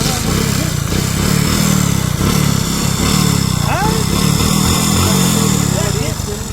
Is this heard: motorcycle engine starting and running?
yes